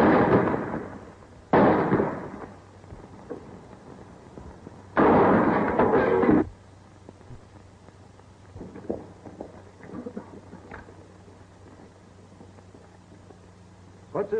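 Gunfire in a western film comes as a few loud, close bursts of rough, sustained blasts with gaps between them, followed by quieter background noise and faint scattered knocks.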